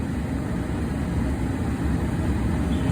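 A Ford Transit van engine idles steadily just after starting, a continuous low rumble that holds even and fairly loud with no talk over it.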